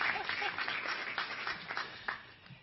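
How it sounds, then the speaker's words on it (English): Clapping from an audience at a college gathering, a steady broadband patter of many hands at moderate loudness that tapers off toward the end. "let's give Kim a round of applause for surviving this"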